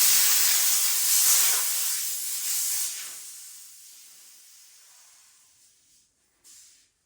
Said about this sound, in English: to release the pressure out of this safely, so when you unclip this from your bottle, you need to use this bleed